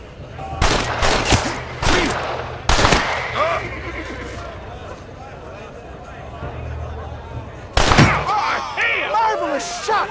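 Sharp gunshots crack out in a Western shootout in Red Dead Redemption, a few loud separate blasts near the start and another burst later, over background ambience and game sound.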